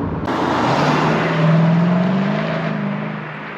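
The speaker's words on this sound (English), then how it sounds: "And that blip, that noise when it changes gear" Mercedes SLK55 AMG accelerating hard, its engine note loud and near, rising steadily in pitch before a brief shift near the end.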